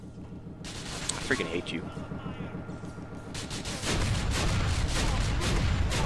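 Enemies firing guns in the video game GTA IV, a dense, continuous barrage of shots and booms that grows heavier partway through while someone talks over it.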